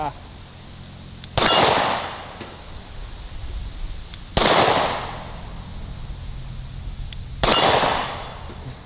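Three sharp gunshots ring out, spaced about three seconds apart, each followed by a bright metallic clang as the bullet strikes and breaks a shooting target. Faint outdoor background fills the gaps between shots.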